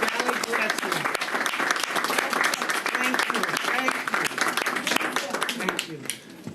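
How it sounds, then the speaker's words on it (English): Sustained crowd applause at a public housing event at Boulevard Houses, honoring NYPD officers, dense steady clapping from many hands throughout, tapering slightly at the end. "give them the round of applause that they deserve"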